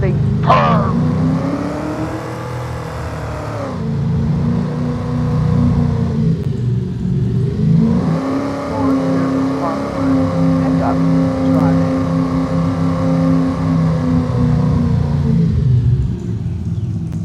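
A truck engine in the Farming Simulator 25 game runs steadily with a smooth, purring drone that rises and dips as it revs, loud and continuous, with a short lull partway through.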